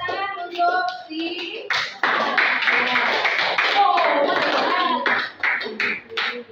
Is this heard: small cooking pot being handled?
no